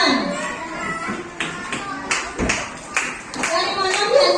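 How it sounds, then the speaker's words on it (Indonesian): A school class clapping hands in a classroom, several seconds of uneven group applause with scattered sharper claps and a teacher's voice faintly underneath. "Beri tepuk tangan."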